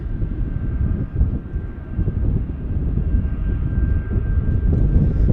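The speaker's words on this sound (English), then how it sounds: "as we've got taxiing 757 inbound here" A Boeing 757 airliner taxiing at Salt Lake City airport, heard as a steady, loud low engine rumble with a faint constant whine, continuous throughout without talk.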